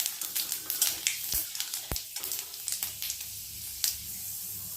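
Dried red chilies and Bengali five-spice tempering crackle in hot oil in a kadai, a steady close sizzle broken by sharp pops and spits with no one talking.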